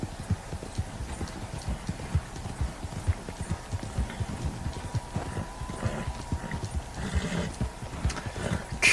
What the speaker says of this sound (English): horse is getting tired